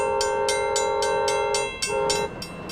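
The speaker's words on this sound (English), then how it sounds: "We're stopped by the old Ghan train just returning from a tourist run." The old Ghan tourist train passes near Alice Springs, with a sustained horn-like tone and a rhythmic, repeated clatter of wheels over rail joints. It is loud and close, with no talking.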